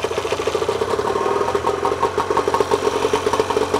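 A small boat outboard motor idling steadily up close, with a fast, even putter throughout and no voices.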